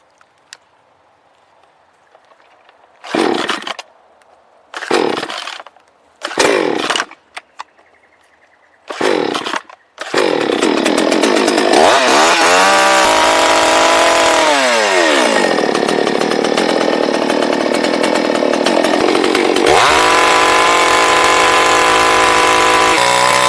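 A cheap Chinese chainsaw sputters through several short pull-start bursts, then roars to life and runs loud and continuous, its pitch rising and falling as it bites into wood at a sawmill.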